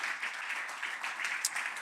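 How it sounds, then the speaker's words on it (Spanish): A church congregation breaks into brief, steady applause in honour of the Lord, a dense wash of clapping throughout. "Un aplauso fuerte al Señor."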